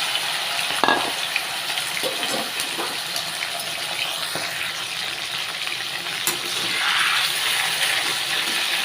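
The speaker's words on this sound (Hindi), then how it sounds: "लहसुन में कलर आ चुका है तो इसमें चिकन मिला देंगे।" Chicken and garlic sizzle steadily in hot oil in a kadhai, a loud, constant crackling hiss with occasional sharper pops and stirring scrapes, swelling slightly near the end.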